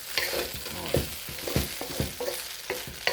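Lo mein noodles sizzle and crackle in a hot pot while being stir-fried, with repeated scraping strokes in an uneven rhythm, close up.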